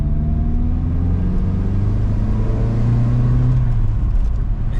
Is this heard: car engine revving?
yes